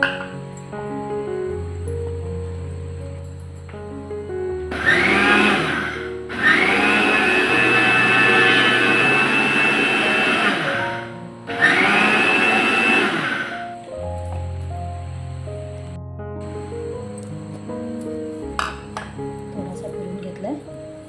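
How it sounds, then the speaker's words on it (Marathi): A mixer grinder grinding semolina whirs loudly in two bursts of several seconds each, separated by a short pause, with quiet background sounds before and after. "मी जरा फक्त मिक्सरला फिरवून घेते"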